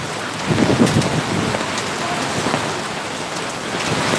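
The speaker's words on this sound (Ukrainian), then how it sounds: "И град, и дождь, и ветер" Steady, heavy rain pours down with a dense hiss, and low rumbling swells underneath like distant thunder, continuous throughout.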